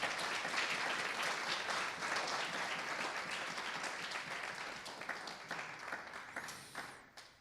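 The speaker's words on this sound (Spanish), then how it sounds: "denles un fuerte aplauso" A church congregation applauds in a loud, sustained burst of dense clapping from a full room, slowly thinning and fading toward the end.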